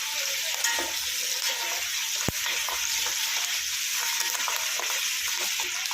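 Curry leaves sizzle in hot oil for chicken pulao, a steady close crackle with stirring and one sharp click partway through, with no one talking.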